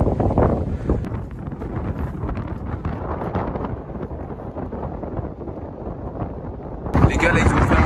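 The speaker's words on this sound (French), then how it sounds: "Il y a énormément de vent, j'ai jamais vu ça." Strong wind buffets the microphone on a winter mountain summit, a constant loud roaring rush that masks voices talking underneath and gusts harder near the end.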